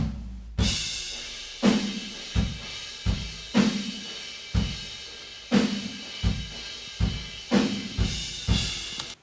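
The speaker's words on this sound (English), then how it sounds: "So all the rooms sound like this." A full drum kit captured by distant room microphones, with an EMT plate reverb on the snare, playing a steady rock groove of booming kicks and snare hits washed in cymbal and room ambience, loud and alone.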